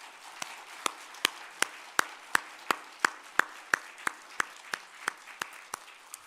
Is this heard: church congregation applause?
yes